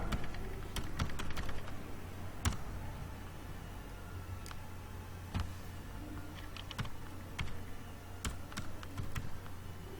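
Someone types a CIF number on a computer keyboard for an SBI CSP money transfer. The keystrokes are close and fairly quiet, some in quick bursts and some as scattered single taps, over a low steady room hum.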